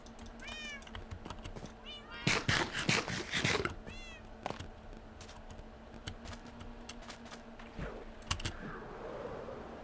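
Cats in the Minecraft video game meow repeatedly, several short, high mews in bursts, mixed with rapid clattering keyboard typing and a steady background hum.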